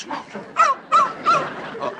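An excited small dog yips and barks in quick repeated bursts, three or four sharp high yelps close by, with faint voices underneath.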